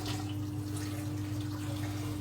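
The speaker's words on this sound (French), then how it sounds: "je vais mettre de l'eau un peu tiède, de l'eau un peu chaude" Warm water pouring steadily into a container while fattened duck liver is being prepared, a continuous even splashing stream with a low steady hum underneath.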